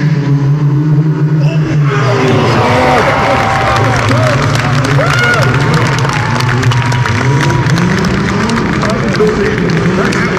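Cars doing stunt driving inside an indoor arena at a Top Gear Live show in the Ericsson Globe, Stockholm, their engines revving and swooping in pitch beneath a loud, constant roar of crowd noise.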